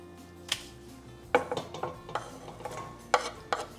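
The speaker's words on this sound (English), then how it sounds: "I'm gonna begin by sauteing the onions with the chiles." Onions and red chiles sauteed in a pan for teriyaki chicken wings: a series of clinking utensil strikes and scraping stirs against the pan, irregular and close, over a faint low background.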